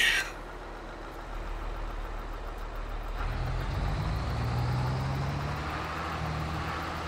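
A truck in Farming Simulator 22 idles and then drives off, its engine rising into a steady, moderately loud drone after a brief hiss, with no speech.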